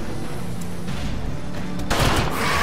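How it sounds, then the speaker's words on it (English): Gunfire from a skill attack in Darkest Dungeon: dense, loud volleys of shots fill the whole clip, swelling into a heavier burst near the end, with no talking over it. "Gunfire on those three."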